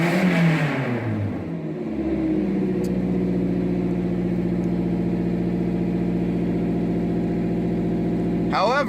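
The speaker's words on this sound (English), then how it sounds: "I do need to fix the exhaust, because as you can hear, it is pretty damn loud" A Toyota Celica ST162 under restoration idles with a loud, leaky exhaust, giving a steady, droning rumble close by. A brief rev sounds at the start, and a short metallic clatter comes at the end.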